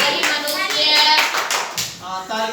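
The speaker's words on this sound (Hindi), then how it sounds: "तालियां भाई।" Children in a classroom clap together for a student's answer, a close, rhythmic burst of hand claps with a few young voices mixed in.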